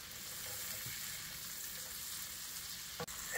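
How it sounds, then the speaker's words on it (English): Sliced mushrooms cooking in butter in a pan, a faint, steady hiss of frying broken near the end by a brief clatter as they are stirred. "Add 1 cup of sliced mushrooms, give it a quick stir, and cook for about 1 minute."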